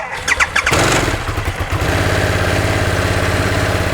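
A Harley-Davidson motorcycle engine cranks with a few short starter bursts, catches loudly, and settles into a lumpy, throbbing idle close by.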